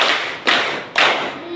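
Three sharp, close hand claps spaced about half a second apart in a clapping counting game, each a bright slap with a short decay.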